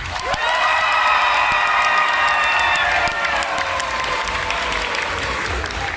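Convention audience at Otakuthon 2018 applauding loudly during a Persona 5 courtroom-style panel, dense sustained clapping with cheers and a whistle-like whoop rising over it, steady for the whole stretch.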